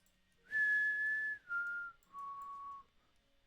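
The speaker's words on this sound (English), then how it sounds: "I can whistle." A person whistles three clear, sustained notes, each a little lower than the one before, heard close and alone against a quiet background.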